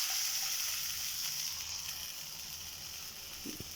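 Gram flour batter sizzles steadily in hot tempering in a pan, a continuous bright frying hiss that fades slightly, with a soft clunk near the end.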